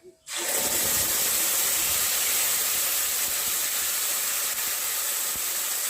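Ground tomato paste hits a hot pan and bursts into a loud, close sizzle that starts abruptly and holds as a steady, dense hiss.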